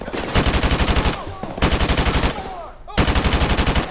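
An AK rifle firing in Modern Warfare Remastered, three loud bursts of rapid automatic fire split by short pauses, with faint bits of game sound between them.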